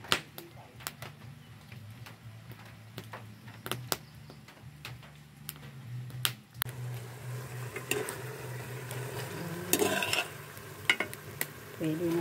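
Pork frying in a pan and releasing its fat, with frequent close clicks and scrapes from stirring over a low sizzle, which grows louder and denser in the second half.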